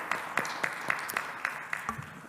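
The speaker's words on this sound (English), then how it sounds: "Round of applause there." Small audience at a business pitch event clapping, a sparse steady rhythm of individual claps, fairly faint, ending as it tapers off.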